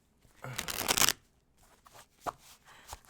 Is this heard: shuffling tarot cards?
yes